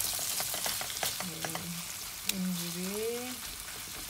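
Meat sautés in a pan for stuffed cabbage rolls, sizzling steadily while a wooden spoon stirs and taps against it, close and clear, with someone speaking briefly over the frying.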